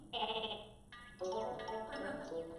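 A sheep bleats twice nearby, a quavering cry followed by a longer, wavering second call.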